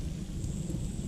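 Rain falls steadily on a village on a morning, a dense, even patter with no breaks, close and constant for the whole short stretch.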